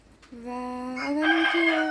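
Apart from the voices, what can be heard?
rooster crowing and chickens in a village near Fuman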